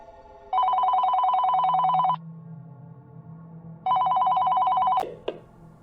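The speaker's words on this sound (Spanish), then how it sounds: "el teléfono volvió a sonar." A telephone rings in two long electronic trilling bursts separated by a pause, followed by a clunk as the handset is picked up, over a low hum.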